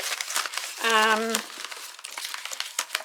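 Paper envelopes being pulled from a folder and handled, crisp crinkling and rustling bursts close by, with a brief voiced hum in the middle.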